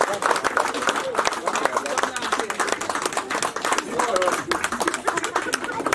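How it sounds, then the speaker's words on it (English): Audience clapping at a graduation ceremony for a Cameroonian chief and queen, uneven, lively hand claps with crowd chatter and some laughter mixed in throughout. "a big hand of applause."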